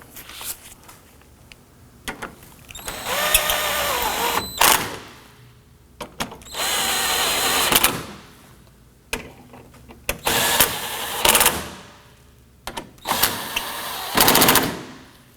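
A power tool tightens down bolts on a Toyota Camry 2.5L radiator, firing in about five separate rattling bursts of a second or two each, with quieter handling noises between them.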